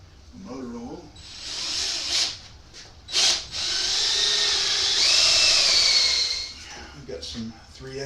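A power drill bores into a metal bracket lubricated with cutting oil, whining in a few short bursts before a longer sustained cut whose pitch shifts as the bit works through. Faint talk sits around the drilling.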